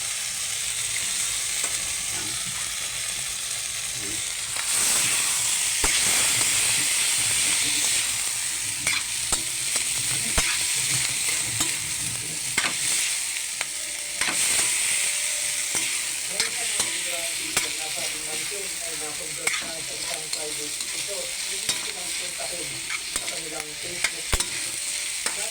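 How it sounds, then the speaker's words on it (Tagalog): Onion and garlic sauté in a hot pan, with a loud continuous sizzle and scattered scraping stirs close by, running for about twenty-five seconds without speech. "Gigisa lang po natin sa sibuyas bawang."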